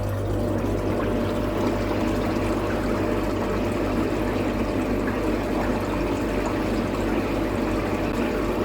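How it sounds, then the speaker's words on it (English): Blagden 60 litre air pump running on a pond's rotary drum filter, a constant near bubbling and rushing of aerated water over a low steady hum, unchanging for the whole stretch with no talk. "I've got the Blagden air pump on this, 60 litre"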